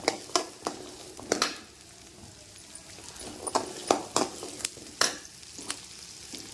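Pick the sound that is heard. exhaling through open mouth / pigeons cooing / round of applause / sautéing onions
sautéing onions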